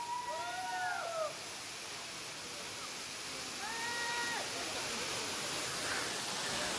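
Lakhenchuli waterfall sends out a steady, fairly distant broadband roar, while several voices talk and exclaim over it.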